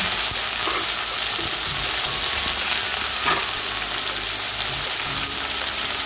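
Potatoes fry in a pan with spring onion, a loud continuous sizzle with occasional stirring clatter throughout, close and steady, no talking.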